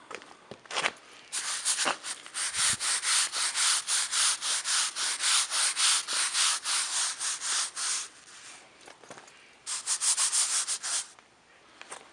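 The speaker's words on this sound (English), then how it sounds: "I'm going to spray it on and we're going to scrub it later." Rhythmic scrubbing strokes on a sprayed oil stain rasp back and forth in rapid, even bursts, pausing briefly a couple of times before resuming; close and fairly loud.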